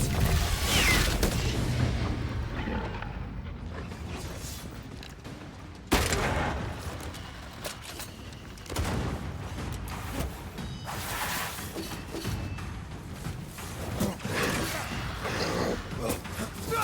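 Enemy gunfire in Banishers: Ghosts of New Eden rings out as dense, loud bursts over a rumbling game soundscape, with a sharp new volley about six seconds in and further shots trailing after.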